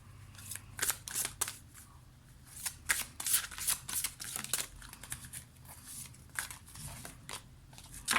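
Oracle cards are shuffled by hand for a card reading, giving repeated soft riffling and slapping bursts in an irregular rhythm, close and fairly quiet, with light rustling between them.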